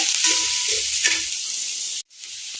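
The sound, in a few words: grated carrot sautéing in a pan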